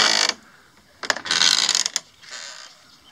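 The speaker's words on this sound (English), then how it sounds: "Old school door." An old-style wooden door at a camp creaks and groans on its hinges in two long, loud grinding passes with short ratcheting bursts between them.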